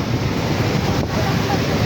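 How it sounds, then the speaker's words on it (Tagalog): Steady broadband roar of monsoon wind and rushing sea waves at sea on a fishing trip, continuous and fairly loud throughout with no distinct breaks. "hindi na po ito kakalma itong hangin-hangin at alon sa habagat"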